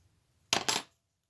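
A paper card corner is cut with a quick double snip of scissors while making a photo corner, two sharp close cuts in rapid succession amid an otherwise quiet room.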